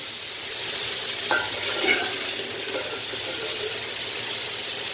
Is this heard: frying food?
yes